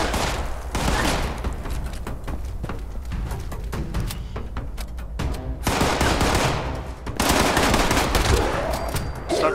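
Gunfire from the Fallout 76 video game, with bursts of rapid shots and fusillade-like crackle running almost continuously, loud and close, including dense volleys near the end.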